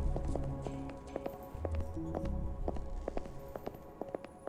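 Fox padding along behind the player in the horror game Burnhouse Lane, soft regular footfalls repeating steadily under a low droning game ambience.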